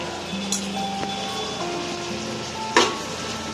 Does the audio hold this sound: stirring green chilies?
yes